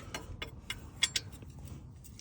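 Metal clicks of a wrench breaking loose bolts on the oil pan of a 2017 Nissan Sentra, a few sharp ticks spaced irregularly, close and fairly quiet over a low background hum.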